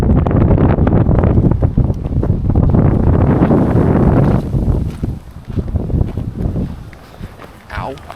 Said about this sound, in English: It's rainy, it's windy.